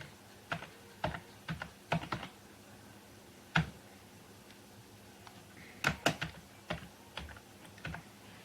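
Typing on a computer keyboard, with short bursts of close, crisp key clicks separated by pauses in a quiet room.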